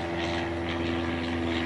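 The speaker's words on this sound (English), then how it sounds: "Check out this plane." A propeller airplane flying over the area near the Daytona race track, a loud steady droning engine tone throughout with no talking.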